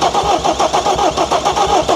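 A diesel truck engine with no glow plugs cranking without catching, the starter churning loud and close in a steady rapid rhythm through the whole stretch.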